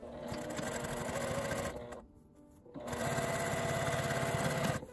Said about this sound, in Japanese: 返し口のところを1センチ内側に折り込んで端ミシンで縫い閉じます。